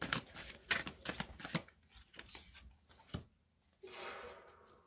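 Tarot cards are shuffled in quick rustling bursts, close and fairly quiet, followed by a couple of softer flicks and a brief sliding sweep near the end.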